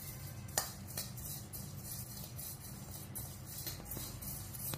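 Rasam powder spices dry-roasting in a pan, stirred with a utensil that scrapes and clinks against the metal in irregular strokes, one sharper knock near the start, with low kitchen hum underneath.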